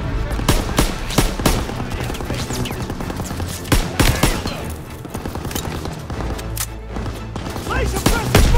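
Machine gun fire in Call of Duty WWII roars in loud, rapid bursts with sharp cracks and booms of a wartime battle, sustained across the whole stretch amid the chaos of combat.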